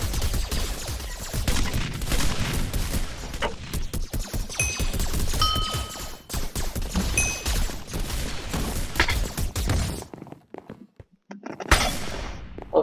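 Dense, rapid bombardment explosions in the Hypixel video game, a near-continuous barrage of loud cracks and booms for about ten seconds that drops out abruptly, followed by a brief final burst.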